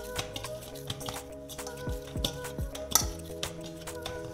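A spoon stirring soft sanjeera dough in a bowl, with repeated scraping and clinking strokes against the bowl at a steady rhythm, quiet and close.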